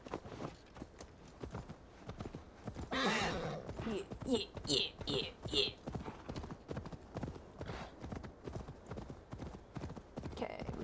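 Horse hooves clip-clop in Assassin's Creed Valhalla, a steady run of soft hoofbeats under a voice talking over the gameplay.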